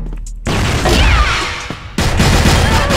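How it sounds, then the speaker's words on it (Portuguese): A loud grenade blast in a video game, a sudden booming crack that swells and slowly fades, then a second sharp burst of noise and rumble. "Granada."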